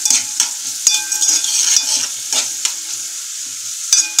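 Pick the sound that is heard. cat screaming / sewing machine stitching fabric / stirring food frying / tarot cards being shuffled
stirring food frying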